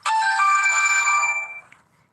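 A telephone ringtone sounds once, a clear electronic ring of about a second and a half that fades out, close by and with no talk.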